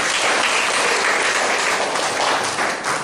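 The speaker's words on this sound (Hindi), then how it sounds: "ताली बजाओ।" A church congregation breaks into sustained applause after a prayer, a dense steady wash of many hands clapping that fills the room for several seconds.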